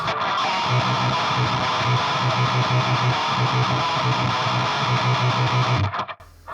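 A heavily distorted, down-tuned electric guitar riff through a Boss HM-2 pedal, with layered harmony lines, played loud and continuous with a chugging low rhythm, cutting off near the end.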